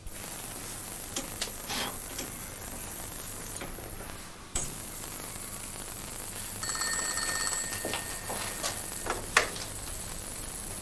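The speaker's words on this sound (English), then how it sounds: "I have to phone Donald in Madrid." A telephone rings on an outgoing call to Madrid, a repeating electronic ring tone that comes in partway through over a steady, hissy indoor background.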